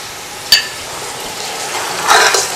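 Ground garlic fries in a pot over full flame, a steady crackling sizzle with a sharp spoon clink early on and a louder burst of frying toward the end.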